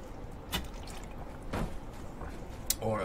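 Water drips in the video game Totally Accurate Battlegrounds. A few irregular, spaced drips and splashes stand out over faint background noise.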